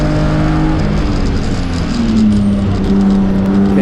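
A NASA Spec3 race car laps at Pitt Race in the closing laps of a race, its engine revving hard and loud with rising and shifting pitch throughout, steady and close, with no talking.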